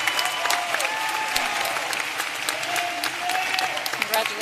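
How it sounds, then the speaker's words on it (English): Sustained audience applause at a graduate program commencement ceremony, a dense steady wash of many hands clapping throughout, moderately loud and fairly close, with faint crowd murmur beneath. "Can we please have a round of applause"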